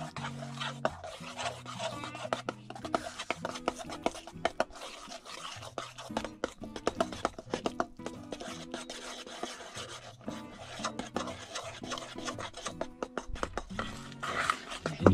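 Flour is stirred into a chocolate chip cake batter with banana in a bowl, giving steady close rasping, scraping strokes with intermittent knocks against the bowl. No one speaks.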